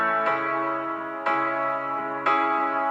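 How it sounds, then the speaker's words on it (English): A solo piano from the opening of a song plays three sustained, bell-like chords, each struck about a second apart and left ringing, loud and clear with no voices. "So the whole song just started with a piano"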